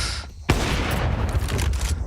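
Pistol fire in a Counter-Strike esports match cracks out as a dense, loud volley of overlapping shots beginning abruptly and continuing without break.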